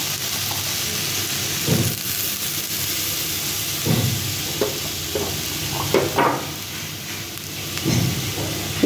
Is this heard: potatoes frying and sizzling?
yes